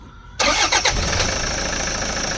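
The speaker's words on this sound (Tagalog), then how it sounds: "Engine start." A Toyota Commuter van's 1KD diesel engine, which has a low-power fault and EGR flow trouble codes, cranks and catches abruptly, then settles into a loud, steady clattering idle close by.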